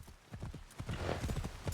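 Horse hooves clip-clop in a quick, steady rhythm as a horse is ridden through a mountain pass in the video game Assassin's Creed Shadows, close and clear.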